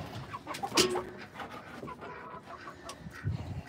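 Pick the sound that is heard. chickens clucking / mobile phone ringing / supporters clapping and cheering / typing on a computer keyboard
chickens clucking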